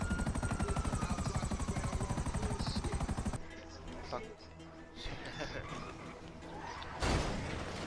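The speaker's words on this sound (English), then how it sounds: "It's the chopper" A video-game helicopter roars up close with a rapid, pulsing rotor chop for about three seconds, then cuts off abruptly to quieter game noise with a sharp thud near the end.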